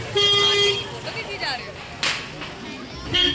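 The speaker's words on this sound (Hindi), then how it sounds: "आपको अभी बहुत सारे हॉर्न सुनाई दे रहे होंगे" Car horns honk repeatedly in busy Diwali market traffic at Jawahar Nagar Camp, Ludhiana, with several close, loud toots and a sharp crack, while someone talks over them.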